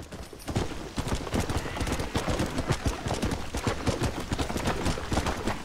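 Horse hooves gallop in Red Dead Redemption 2, a fast, dense clatter of hoofbeats that runs throughout, mixed with bursts of in-game gunfire.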